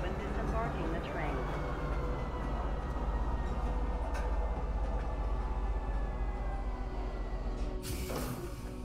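A metro train in the Star Citizen video game rumbles continuously and close, with rail screeches and a loud burst near the end, as a voice speaks over it.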